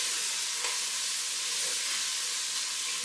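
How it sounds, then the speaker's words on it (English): Tomato paste sizzles steadily in the bottom of a hot pan for a rustic ragu, a constant close, even hiss with faint stirring and no voices. "add about 2 or 3 tablespoons of tomato paste. Incorporate that in the bottom of the pan here"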